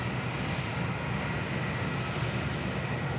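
A Jetstar airliner taxis along a taxiway at Sydney Airport, giving a steady, broadband engine roar with a low rumble that holds constant and fairly distant throughout, with no talk.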